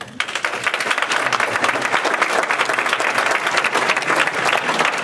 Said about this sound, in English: Let's give all three of these candidates a big round of applause.